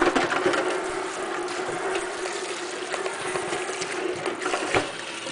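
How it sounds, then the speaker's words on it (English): A home-brewing bucket lid rinsed under running water, a continuous close wash of splashing and trickling with small knocks of plastic as it is handled. "we also want to rinse out the top of the bucket, the lid, give it a nice quick rinse"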